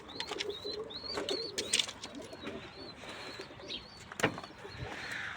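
Pigeons coo softly in repeated low murmurs, with sharper chirps and a few wing flutters, fairly close in a quiet space.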